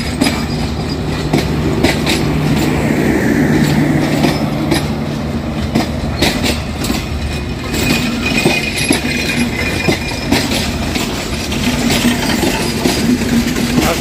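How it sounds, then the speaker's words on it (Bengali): A train passes Pakshi station in Bangladesh, approaching the Hardinge Bridge. Loud, steady rumble of the rail cars with rhythmic clickety-clack of wheels and a faint squeal, heard up close with no talking. "আসলে ট্রেন এমন একটি যানবাহন, পাশে দাঁড়িয়ে থাকলেও যেন একটা ভয় কাজ করে"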